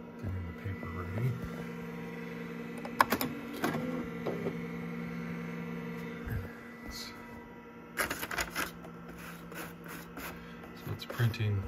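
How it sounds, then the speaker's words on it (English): A 1985 Panasonic Executive Partner portable computer's built-in printer runs in bursts of mechanical buzzing and chattering over a steady electrical hum, with a person talking nearby. "So it's printing the A that was on the screen there."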